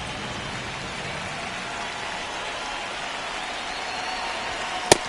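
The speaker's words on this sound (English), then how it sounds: "It really feels like we might be running out of time before a rain delay is called. This rain is not letting up." Steady rain falls over a baseball stadium in a Rockies game in Colorado, a dense even hiss that holds throughout, with one sharp brief click near the end.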